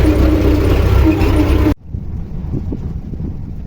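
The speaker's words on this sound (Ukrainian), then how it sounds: "Вообще капець вітрюган такий" Strong wind buffets the microphone outdoors in a hay field during baling with rain approaching, a loud continuous roar that cuts off sharply partway through and drops to a softer, gusty rumble.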